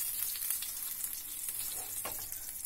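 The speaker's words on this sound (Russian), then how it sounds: "рыба у нас обжарилась со всех сторон" Fish frying in a pan, a faint, steady hiss and crackle of hot oil with a soft scrape or two of stirring, fairly quiet and without voices.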